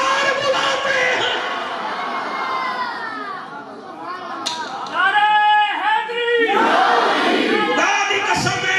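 A crowd chants religious slogans at a religious gathering, loud massed voices rising in rhythmic shouted bursts, strongest in the second half, with a lone speaking voice heard early on.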